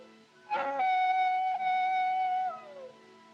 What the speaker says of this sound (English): Them coyotes give me the creeps. It sounds, well, it sounds just like a baby.